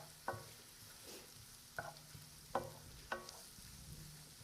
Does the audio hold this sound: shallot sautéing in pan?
yes